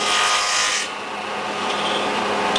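A wooden bar for a foundationless beehive frame is fed through a table saw against a miter gauge, a loud steady cutting whine that briefly eases midway and then carries on.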